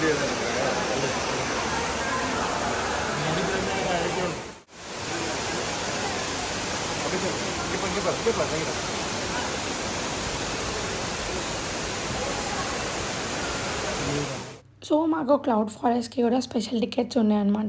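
Waterfall inside the Cloud Forest conservatory in Singapore, a steady broadband rush of falling water heard close for most of the time, briefly interrupted, with someone speaking over the noise near the end.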